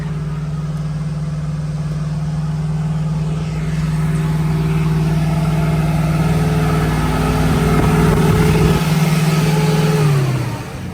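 A pickup truck engine hums steadily close by as the truck drives around a tire on a cattle farm. The engine rises gradually and then winds down near the end, with no talk.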